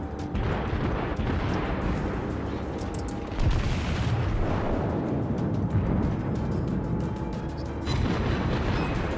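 Warship guns firing in the World of Warships video game, heavy booming blasts over a constant dense rumble of battle, with a sharp salvo partway through and another near the end, no talk.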